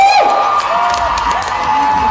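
Audience at a film premiere cheering and shouting, a loud close burst of crowd noise with high whoops, lasting about two seconds.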